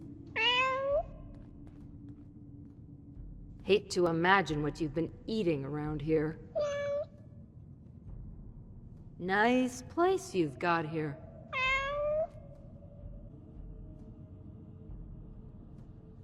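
A cat in the video game Fallout 4 meows several times, with high, drawn-out calls close by, interleaved with a voice talking.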